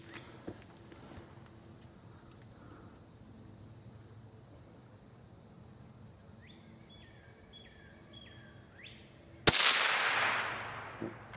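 A CCI Velocitor .22 rimfire round fired from a rifle: a single sharp crack near the end of a quiet stretch, followed by a short hiss-like ring-out.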